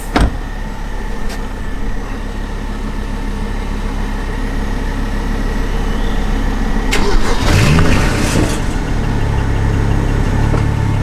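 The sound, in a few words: car engine running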